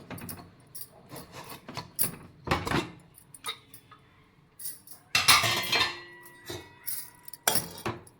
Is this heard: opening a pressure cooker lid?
yes